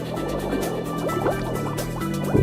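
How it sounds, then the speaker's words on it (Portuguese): Methane gas bubbles escape from a deep crack in the ocean floor, giving soft, irregular gurgling and bubbling pops over a steady tonal hum. "Estas são bolhas de metano que estão a escapar através de uma fenda profunda no fundo do oceano."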